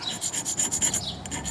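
A possible meteorite stone is rubbed against unglazed ceramic for a streak test, producing a close, rhythmic scraping rasp in quick back-and-forth strokes with nothing else heard.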